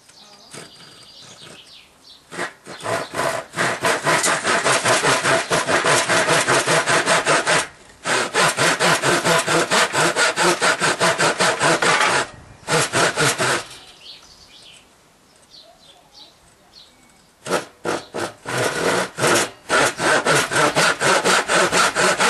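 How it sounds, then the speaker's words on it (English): A bucksaw cuts a small recess in wood with rapid, rhythmic back-and-forth strokes in several long runs separated by brief pauses, close and loud, with faint birdsong in the background. "Now I cut a small recess."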